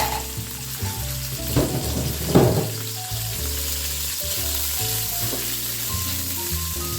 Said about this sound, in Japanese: 油を敷いて お肉を炒めていきます